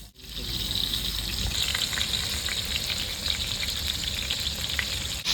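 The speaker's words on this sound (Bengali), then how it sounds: "বন্ধুরা বেগুনগুলো ভাজা হয়ে গেছে" Halved eggplant pieces fry in hot oil in a pan, giving a loud, steady, dense sizzle that crackles continuously from start to finish with no talking.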